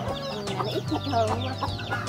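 Highland chickens at a rural Vietnamese mountain home cluck continuously, a dense chorus of overlapping clucks and short calls from several birds close by, with no talk over them.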